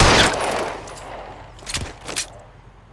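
Gunfire rings out in the video game L.A. Noire, a loud burst of shots at the start followed by two sharper single cracks after a short pause.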